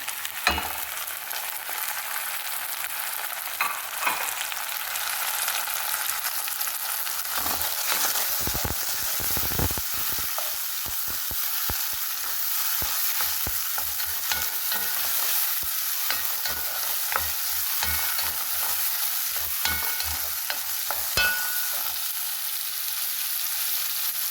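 Tomatoes and onions fry in a pan with a steady sizzle as a utensil scrapes and stirs through them in repeated strokes, close and continuous.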